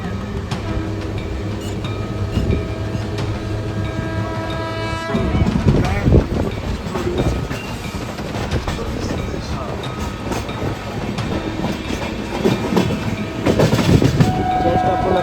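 A passenger train's general coach on the Mumbai to Ujjain route rumbles loudly and steadily, wheels clattering on the rails, with a horn-like tone early on and speech faintly mixed in.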